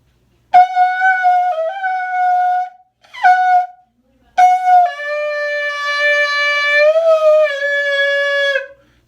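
A shofar sounds in three separate blasts, two shorter ones followed by a long sustained note with a slight rise in pitch near the end. The horn is rich and buzzy, loud and close, played alone without any talk.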